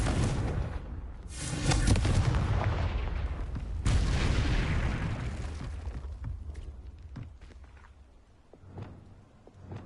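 The Confringo explosive spell in the video game Hogwarts Legacy, loud fiery blasts bursting near the start with a second boom around four seconds, each followed by a rumbling decay and scattered crackles.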